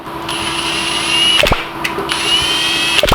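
An impact wrench tightens bolts on a motorcycle engine under assembly, giving two short, loud whirring bursts close by with a steady hum between them.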